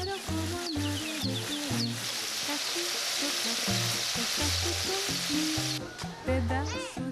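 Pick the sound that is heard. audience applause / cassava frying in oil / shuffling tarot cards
cassava frying in oil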